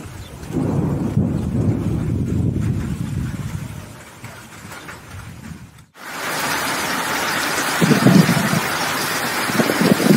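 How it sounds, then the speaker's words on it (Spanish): Heavy rain pours steadily in Villa Juárez, Sonora, with low rumbling thunder through the first half, a brief lull near six seconds, then a louder, brighter downpour with more rumbles near the end. "Lluvia intensa"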